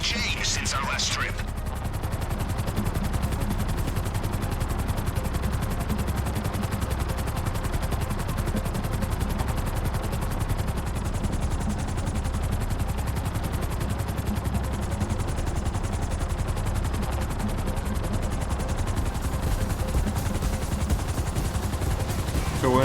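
A Sparrow helicopter in GTA Online runs as a steady, loud rotor drone that holds for the whole stretch, and a voice talks over it.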